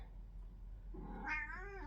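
A house cat gives a single drawn-out meow by a door, wanting to be let out, faint and close against a low steady room hum, with no talking.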